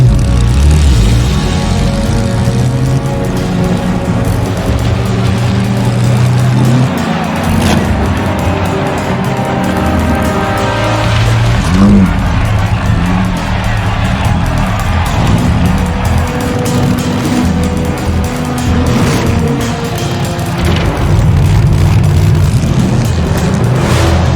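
Race cars from The Saboteur lining up at the start of a race, engines droning and revving loudly and continuously, with tire squeal and a low rumble throughout.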